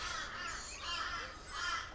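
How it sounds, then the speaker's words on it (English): Crows caw outside from a neighbour's bird feeding spot, faint and distant, several rough calls repeating in loose succession over low background noise. "Sorry for the birds."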